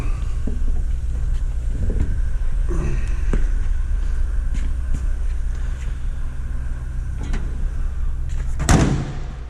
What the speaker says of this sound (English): Don't like the heavy door sound.